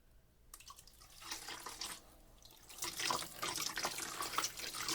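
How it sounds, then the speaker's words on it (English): Water squeezed from a wet wool yarn skein, dripping and trickling close by in uneven splashes that grow heavier and more continuous toward the end, with no talk. "So I'm just squeezing down the length of the skein of yarn, squeezing out as much liquid as I can"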